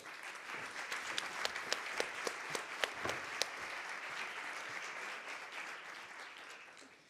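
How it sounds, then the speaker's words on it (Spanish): A crowd applauds steadily for several seconds, dense clapping with a few sharper claps standing out, fading slightly toward the end. "un aplauso para ellos, por favor"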